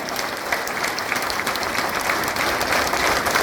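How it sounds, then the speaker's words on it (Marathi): An audience at a hospital event claps loudly and continuously, a dense, steady roar of many hands close by, sustained without pause. "सगळ्यांनी हात वर हात वर आणि टाळ्याचा आवाज आला पाहिजे जोरात जोरात"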